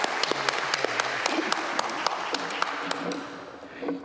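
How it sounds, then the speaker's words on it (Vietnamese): Guests applaud inside a church at a Vietnamese Catholic wedding ceremony, steady scattered clapping that continues under a voice. "Xin quý vị vỗ tay."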